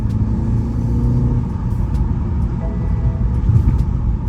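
A BMW engine drones with a heavy low rumble under full throttle from inside the cabin, a steady loud roar with slight rising strain and no talking.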